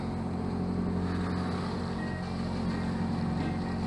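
A sailboat making six to seven knots under sail on open sea, with a steady loud rush of wind and water against the hull filling the whole stretch, no voices.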